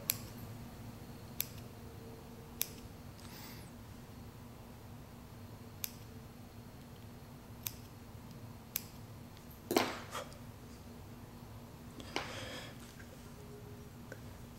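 Scissors trim cotton wick for an RTA atomizer, giving sparse, sharp snips and clicks spaced a second or two apart against a quiet room hum, with a slightly louder cluster of cuts near the end.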